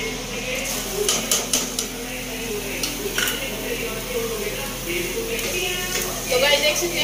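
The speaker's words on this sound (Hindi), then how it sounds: "यहाँ पे प्याज फ्राई हो रही है" Two chopped medium onions fry with ginger-garlic paste in a pan in a home kitchen, a continuous sizzle with stirring scrapes and metal clinks of utensils, while someone speaks over it.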